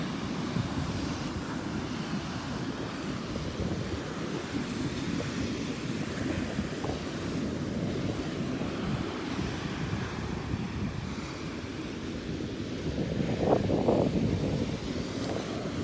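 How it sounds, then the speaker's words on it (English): Big ocean waves roll and crash continuously at a beach at high tide, with a steady dense roar and wind buffeting the microphone, swelling a bit louder near the end, with no talking. "so I can enjoy all these big waves"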